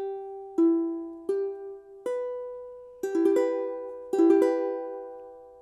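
A ukulele strums a minor chord from an easy tutorial, a few separate downstrokes ringing out and then a quicker burst of strums, close and clear with no talking.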